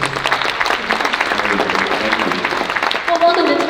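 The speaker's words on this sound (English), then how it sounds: "A round of applause" Audience applause greets a guest orchestra conductor on stage, moderately loud clapping mixed with voices, with talk rising over it toward the end.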